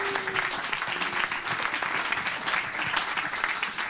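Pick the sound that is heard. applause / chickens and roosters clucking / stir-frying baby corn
applause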